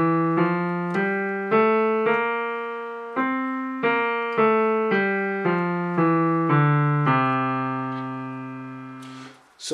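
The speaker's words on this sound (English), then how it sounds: "So that is the Mixolydian scale." A Mixolydian scale in C is played note by note on a sustained keyboard-like instrument, about a dozen evenly spaced tones stepping up and back, each note decaying before the next, with no talking.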